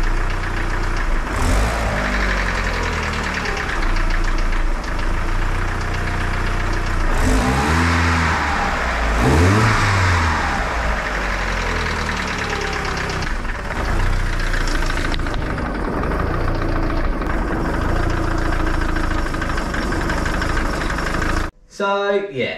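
Vauxhall Zafira GSi with a Z20LET engine running with a bottom end knock, a steady mid-pitched engine drone with repetitive knocking and a few rev rises, continuous and close, cutting off near the end.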